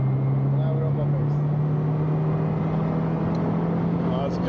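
A turbocharged 3.0 V6 in an Alfa Romeo GTV drones steadily from inside the cabin as it pulls on boost, its pitch creeping slightly higher over the few seconds.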